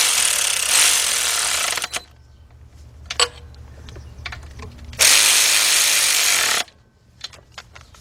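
Power ratchet with an extension tightening 10mm bolts on a 2006 Kia Sportage 2.7 engine, two long loud whirring bursts separated by lighter clicks and handling knocks.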